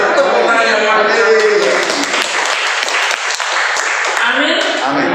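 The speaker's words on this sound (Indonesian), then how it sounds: "Tepuk tangan yang mantap." A congregation applauds during a worship service held in an apartment, giving loud, dense, sustained clapping mixed with raised voices that stay strong throughout.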